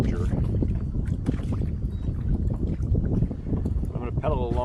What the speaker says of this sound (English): I'm going to pedal along this shoreline